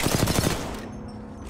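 Kraber sniper rifle shots in Apex Legends: a quick, loud burst of rapid gunfire cracks out for about half a second, then fades into a low, ringing tail.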